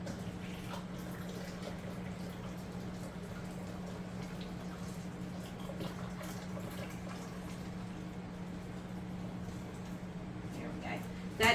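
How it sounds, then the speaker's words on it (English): Boiling water poured into jars of jalapeños set in an electric canner during small-batch canning, a steady rushing wash that runs unbroken for about eleven seconds over a low electrical hum. "I'm going to go in and pour the rest of this in."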